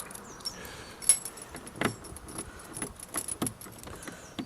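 Car keys jangle in scattered bursts near a Land Rover Defender 90 300TDi hardtop door, with sharp metallic clinks and rattles close by against quiet outdoor background, no talking.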